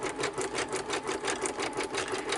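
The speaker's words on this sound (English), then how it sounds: "I am not going very fast on my sewing machine" A sewing machine stitches a zigzag across tags and journal cards at an unhurried pace. It makes a steady, even, rhythmic chatter of needle strokes throughout, close by and with no voices.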